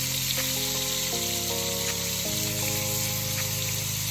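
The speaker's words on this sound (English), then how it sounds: "we're going to brown them for about 3 to 4 minutes, 5 minutes maximum on each side" Well-seasoned Jamaican-style oxtail browns in a Dutch oven over medium-high heat, a dense, steady sizzle close up under background music.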